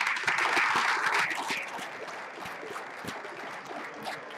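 A crowd claps for a robot at a maze-solving robot competition, a burst of applause that is loudest at first and then thins into scattered claps.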